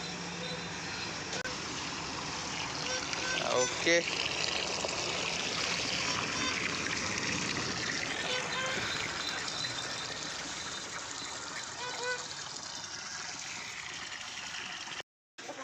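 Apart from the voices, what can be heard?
flowing water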